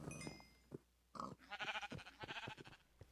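Sheep bleating in Minecraft, a few wavering bleats close by, separated by brief pauses.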